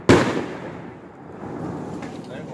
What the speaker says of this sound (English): I feel like it's raining fireworks.